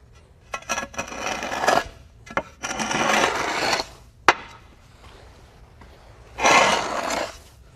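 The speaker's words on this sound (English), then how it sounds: "Here's an example where we can screed off one of the screed rails that we've already left in place." Bedding sand being screeded off a screed rail, heard as bursts of rough scraping and dragging grit with a few sharp knocks between strokes, close by and with no talk.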